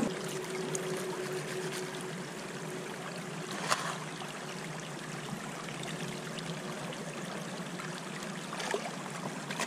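Water rushes steadily through a gold prospecting sluice set in the Ticino river, a loud continuous gurgling splash with a few brief louder spatters and no talk.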